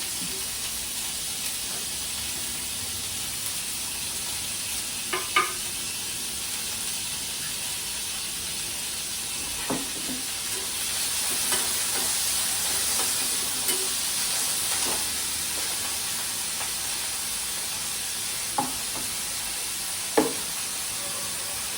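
Onions, green chillies, beans and carrot fry in a pan for an omelette, giving a steady loud sizzle and hiss throughout, with occasional sharp clicks and scrapes of stirring.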